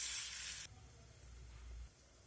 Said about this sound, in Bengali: বাকিগুলো আমি একই রকমভাবে ভেজে নেব।